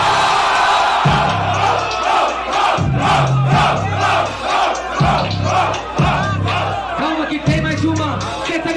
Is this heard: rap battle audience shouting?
yes